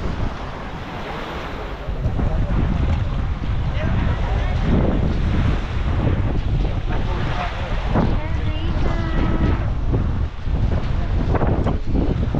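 Wind and surf on a beach at Boracay in the Philippines, where a steady roar of breaking waves and gusting wind stays loud and continuous throughout, with wind buffeting the microphone.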